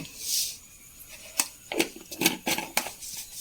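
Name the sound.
mustard seeds spluttering in hot oil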